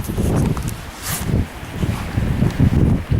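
Strong wind on the West Coast buffeting the microphone in uneven gusts, producing a low, rumbling roar that swells and drops repeatedly, close and fairly loud, with no one speaking.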